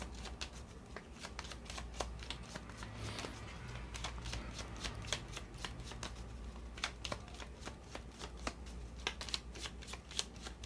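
Cigano fortune-telling cards are shuffled at a reading table, producing a long run of crisp rapid riffling clicks and soft slaps, faint and close, with no talking.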